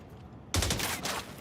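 Gunfire in the video game Tom Clancy's Resurgence mod, crossed with Star Wars Battlefront 2, breaking out suddenly after a quiet moment as a loud, dense burst of rapid shots that continues to the end.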